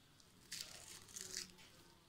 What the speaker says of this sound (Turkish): Çıtırtısını, sesini duyabiliyorsunuz.